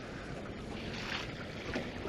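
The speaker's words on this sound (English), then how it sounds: "The waves and wind are making it kind of tough." Wind rushes and waves slap on a lake during winter crappie fishing, a steady broadband wash with small surges, heard close with no talking.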